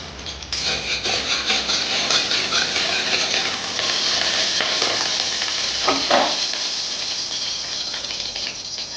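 Liver frying in a hot pan for chow mein, a steady close sizzle and crackle running throughout with occasional stirring scrapes.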